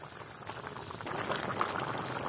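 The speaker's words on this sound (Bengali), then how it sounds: "তরকারিটা উতলাই উঠছে" A fish curry with garlic paste, turmeric, chili powder, chopped tomato and water boils in a pot, giving off a continuous close bubbling and gurgling that swells slightly toward the end, with no talking.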